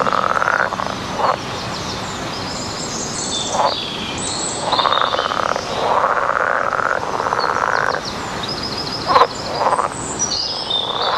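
Green frogs croak in a dense outdoor chorus, rapid rattling calls overlapping and repeating in bursts, fairly close and loud over a constant background of insects and a few faint bird chirps.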